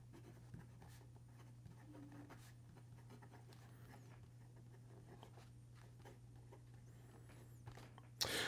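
A Lamy Vista fountain pen with a broad nib writing on paper, giving faint, close scratching strokes over a steady low hum. A louder rustle comes near the end.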